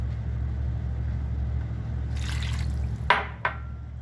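Water poured into a tray of kebab and potatoes, two short splashing bursts over a steady low background hum.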